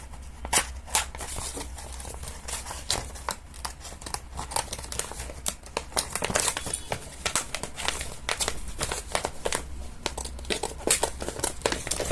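Sheets of transparent paper being cut and handled for a paper craft, giving close, dense crinkling and crackling with sharp snips and rustles in a busy, irregular rhythm throughout.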